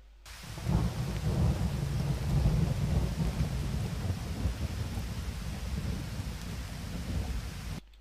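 Steady heavy rain at night with deep rumbling thunder beneath it, a dense continuous wash that swells slightly in the first seconds and holds steady before cutting off, with no voices.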